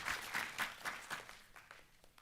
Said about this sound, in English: Everybody give Megan a round of applause.